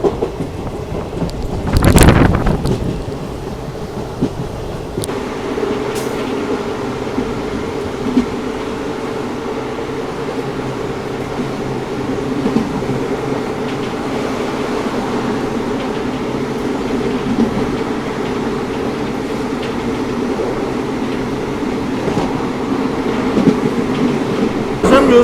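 The 17022 Vasco da Gama–Hyderabad Weekly Express runs on South Western Railway track in heavy rain, rumbling and clattering steadily from onboard, with a sharp, loud burst near the start.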